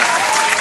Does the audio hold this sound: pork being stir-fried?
no